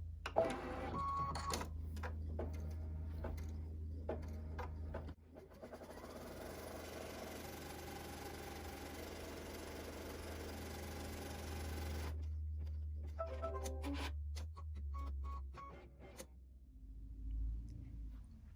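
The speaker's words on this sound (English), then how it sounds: "I'm going to load my frame into my machine, and the first thing that we're going to stitch is our placement stitch" Embroidery machine running a placement stitch on a framed 4x4-inch quilt block, a steady mechanical whir with fast rhythmic needle chatter that starts, runs evenly for several seconds and stops, amid quieter clicks and handling noises, with no talk.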